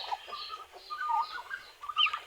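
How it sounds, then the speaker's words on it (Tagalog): A farmyard turkey gobbles in a quick series of warbling, chattering calls, close and fairly loud, with short pauses between bursts and no talking. "At ito rin, gawa rin itong ating pabo."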